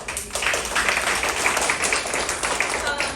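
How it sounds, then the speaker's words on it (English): A crowd applauds steadily for a few seconds at a military women's leadership meeting of the 56th Fighter Wing, a dense wash of clapping with some voices mixed in. "Give yourselves a round of applause for that."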